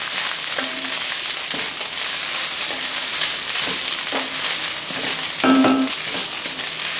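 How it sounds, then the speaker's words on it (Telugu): Cleaned drumstick (moringa) leaves fry in oil, a steady hissing sizzle with periodic scraping stirs and soft clinks of a utensil against the pan, no voices present. "మనము శుభ్రం చేసి పెట్టుకున్న మునగాకు ఏదైతే ఉందో అదంతా కూడా వేసి వేయించి తీసుకోవాలి."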